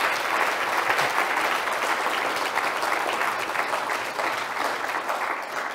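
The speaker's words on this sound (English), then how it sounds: "I think we can give him a round of applause." A lecture audience claps after an inaugural professorial lecture, giving steady, fairly loud applause from many people that holds evenly for several seconds, with no speech over it.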